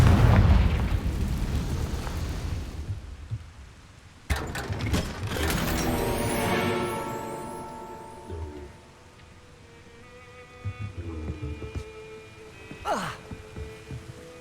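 Confringo fire blast spell exploding in the Hogwarts Legacy video game: a sudden loud boom bursts out and rumbles down, followed by crackling, ringing debris and a later sharp flare of sound, no talking.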